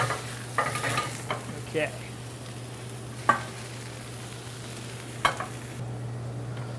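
Food simmering in a pan in a cafe kitchen, a soft continuous sizzle under a steady hum, broken by a few sharp scrapes and clinks of stirring; a voice speaks briefly.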